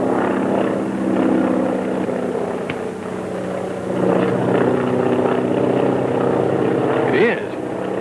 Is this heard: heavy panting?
no